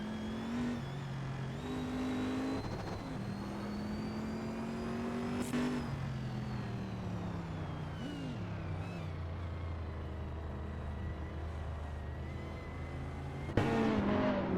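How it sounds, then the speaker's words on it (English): AI-driven hypercars in a racing simulator game at Tor Poznan race around the track, engines droning and shifting pitch through gear changes, with other cars whining past and a brief burst near the end. "We are currently witnessing an intense race in the simulator as the AI drivers battle it out on the track."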